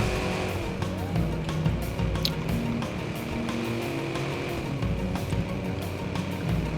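A vehicle engine drones steadily while driving in the video game Watch Dogs, a continuous mid-level motor hum with faint tonal shifts, mixed with other game sounds and no clear speech.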